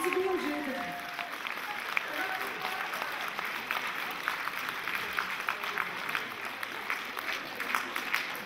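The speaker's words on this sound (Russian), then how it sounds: "под аплодисменты замечательных, прекрасных людей" Concert audience applauding, a sustained wash of clapping from a sizable crowd that runs throughout, with a brief voice near the start.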